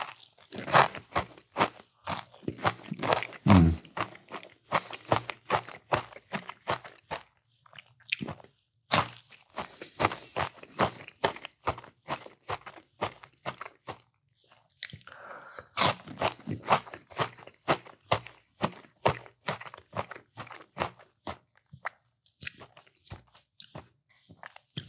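Close chewing and crunching of a sausage breakfast taco, a steady run of wet, crisp bites and chews continuing for the whole stretch with short pauses and no talk.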